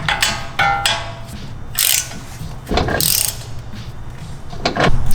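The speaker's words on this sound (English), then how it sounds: "Take the castle nut. And torque this down with a 19mm." A socket wrench with a 19mm socket ratchets a castle nut tight on a 2016-2023 Toyota Tacoma tie rod, giving several close, loud bursts of rapid clicking separated by short pauses.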